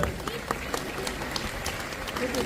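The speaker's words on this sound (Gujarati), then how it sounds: "હરીફભાઈ માટે તાળીઓ વગાડે છે" An audience at a public gathering claps in a steady, dense patter of applause, heard at moderate distance under a background of crowd murmur and speech.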